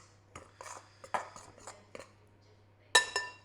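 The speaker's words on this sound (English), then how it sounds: "Mix them together so the flours and the salt are mixed in." Flour and salt stirred together in a mixing bowl for multigrain brown bread, with a series of close, irregular clinks and scrapes of a utensil against the bowl, alone with a faint steady hum beneath.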